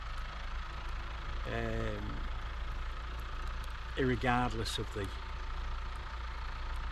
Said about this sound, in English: tractors doing their bit.